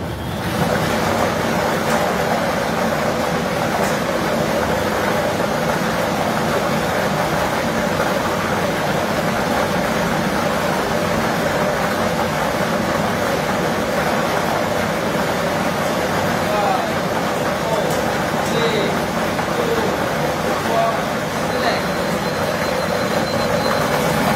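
A lottery draw ball blower machine runs at an STL Nueva Ecija draw, giving a steady, loud whooshing roar of air that holds without a break for the whole stretch.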